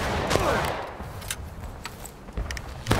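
Gunfire in a video game firefight: scattered rifle shots, some near and sharp and others farther off, crack at irregular intervals over a steady background din.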